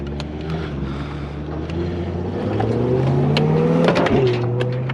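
A car with a loud muffler revs its engine, the throaty rumble climbing steadily and growing louder over several seconds, with no speech.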